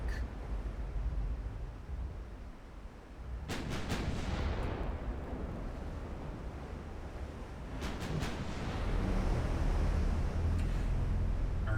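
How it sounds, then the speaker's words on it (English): Heavy 16-inch battleship guns fire in the Ultimate Admiral Dreadnoughts naval game, sending two deep booming salvos with sharp onsets several seconds apart, each rolling off into a low rumble over constant sea and engine noise. "Our 16-inch guns scored the first hits, roughly 5 minutes into battle"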